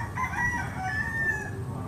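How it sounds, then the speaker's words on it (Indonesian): Chickens call in a rural village setting, a steady run of rising and falling crowing and clucking tones over low background rumble, moderately close and without talk. "sambil ada suara koko-koko ayam ya, karena di sini apa ya, kurang lebih perkampungan lah ya"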